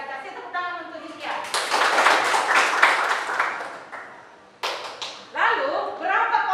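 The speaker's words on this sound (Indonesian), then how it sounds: "Kasih tepuk tangan untuk Kesia" Students in a classroom break into a few seconds of lively applause for a classmate, a dense burst of clapping that swells and fades while a teacher's voice speaks before and after.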